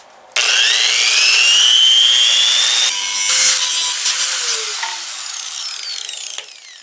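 Metal is cleaned and prepped for welding with a power tool, giving a loud continuous high-pitched grinding whine that shifts in pitch as the tool works the edge, with no talking.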